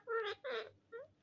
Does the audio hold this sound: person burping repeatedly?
no